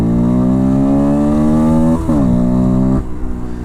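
A Herald Brat 125 learner motorcycle's single engine revs up in second gear, pitch climbing steadily, dipping briefly with a gear change, then rising again before the throttle drops off; loud and close.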